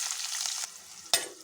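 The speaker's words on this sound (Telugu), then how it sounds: "అలాగే పచ్చిమిర్చి, ఆనియన్స్ వేసుకుందాం." Green chillies and onions sizzle in oil with cumin and tempering seeds in a pan for a bitter gourd curry, a brief close hiss with one sharp clink of a spoon on metal near the end.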